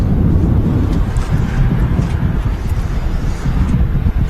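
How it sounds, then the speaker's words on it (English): Loud, gusty wind at Manchester Airport buffets the microphone with a constant low rumble that swells and eases throughout. "it's pretty gusty today, but it's mostly a headwind"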